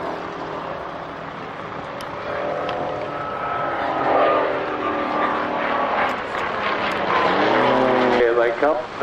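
A P-51 Mustang propeller fighter taxis past at a crowded airshow, its engine a loud, steady rumble that swells as it draws near. Commentary plays over the top.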